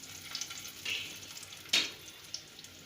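Baby potatoes frying briefly in a pan, a faint low sizzle with a few soft crackles and one sharper spatter burst partway through.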